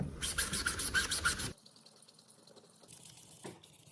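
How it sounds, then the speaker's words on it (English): A magic eraser rubs scuffs off hard-shell luggage in a quick, rhythmic series of close scrubbing strokes for about a second and a half. Fainter rubbing follows. "which is the magic eraser. Let's go ahead and scuff this out together."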